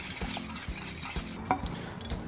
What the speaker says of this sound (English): So as it comes up to the boil, you're gonna whisk, and you want to dissolve the sugar and the salt